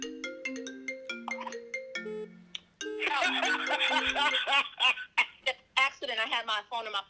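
A phone rings with a FaceTime call, a bright melodic ringtone repeating in a steady pattern, then continuing under a voice and laughter.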